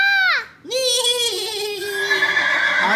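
A voice imitates a horse neigh, a short rising then falling whinny-like call sounding close and clear, followed by a longer drawn-out vocal neigh.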